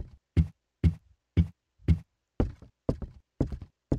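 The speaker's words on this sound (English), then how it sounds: "the sound's kind of loud, honestly. Sound for a door. It won't open." A locked door rattling in a castle horror game, eight sharp wooden knocks in a steady rhythm about half a second apart, loud and isolated against silence.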